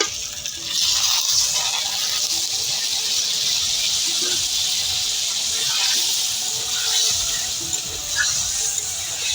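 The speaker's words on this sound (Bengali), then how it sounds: "এবার আমি মশলার থালা ধুয়ে সামান্য একটু জল দিয়ে দেব।" Water from a rinsed spice plate poured into a pan of fried mushroom curry masala, a close, steady splashing and gushing that runs for several seconds.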